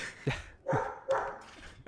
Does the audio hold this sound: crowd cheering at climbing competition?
no